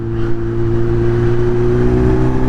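A Kawasaki Z900 motorcycle rides along a road, its engine producing a loud, steady, droning hum with no breaks, heard close.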